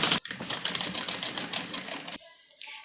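A sewing machine stitches a lace trim onto an umbrella frock in a fast, rattling burst that stops abruptly, followed by a brief faint tone.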